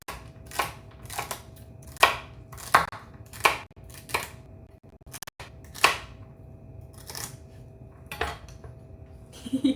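Celery being chopped on a cutting board for lemon orzo soup, a series of sharp, close knife thuds coming in irregular bursts with short pauses in between, heard alone in a quiet kitchen.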